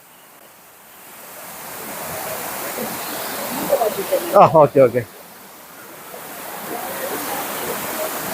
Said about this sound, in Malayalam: പിന്നെ ഇതാ ഈ മീൻമുട്ടി വെള്ളച്ചാട്ടവും.